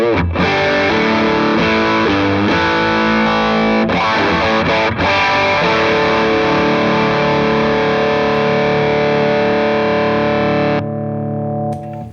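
An electric guitar played through two stacked distortion pedals, heavy saturated chords with a few quick changes early on, then one long sustained chord ringing loud and thick before cutting off abruptly near the end.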